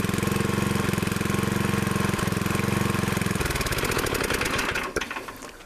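A Craftsman riding lawn mower's small engine idles after a cold start with a steady rapid chug, loud and close, then sputters and winds down to a stop near the end.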